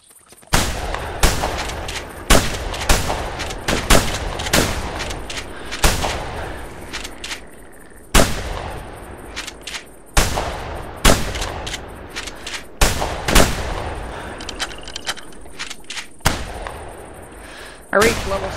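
Repeated gunshots from a mallard duck hunt in theHunter video game, sharp loud reports at irregular intervals, some in quick pairs, with voices talking faintly underneath.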